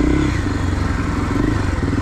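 A 225cc enduro motorcycle rides over a rough trail, its engine a loud, close, throbbing drone with rattling clatter from the bumpy ground.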